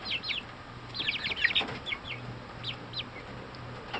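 Hens in a coop cluck and chirp in short, scattered bursts, fairly faint and close, over a low steady hum.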